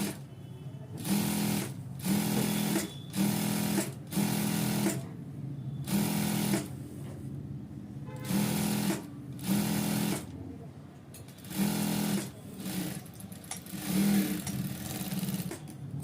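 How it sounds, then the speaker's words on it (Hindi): A sewing machine stitches a half-inch seam on stretch pant fabric for ankle-length pants, running in loud, even bursts of about a second each, separated by short pauses. "आधा इंच यहाँ पे हम सिलाई लगा देंगे"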